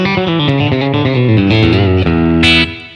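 An electric guitar played through a Sir Woodshed compressor pedal into a Deluxe Reverb amp: a quick, loud run of clean, sustained picked notes alone, ending on a bright chord that rings out and fades.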